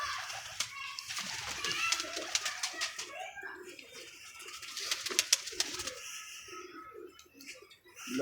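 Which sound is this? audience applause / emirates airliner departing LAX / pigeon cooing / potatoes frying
pigeon cooing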